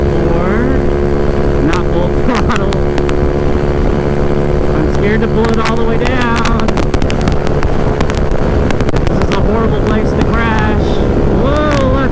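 Wind buffets hard against a 171cc GY6-powered Honda Ruckus scooter at speed on a freeway, a loud continuous roar over the droning engine with a rider talking throughout.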